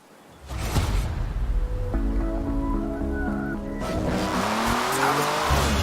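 A Jaguar car driven in the racing game Forza Horizon 4, its engine note climbing steadily through gear changes with tire squeal and a loud, continuous roar close up.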